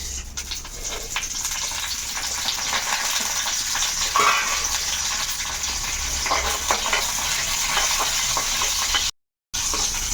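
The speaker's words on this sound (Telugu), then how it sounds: "ఇగో తాలింపుల్లో ఇక్కడ ఆయిల్ పెట్టాను. జీలకర్ర, ఆవాలు, కొంచెం ఎండుమిర్చి, 4 రెబ్బలు కనుమాకు." Cumin, mustard seeds, dried red chillies and curry leaves fry in hot oil for a tempering. The steady, crackling sizzle runs throughout with soft stirring and a brief dropout near the end.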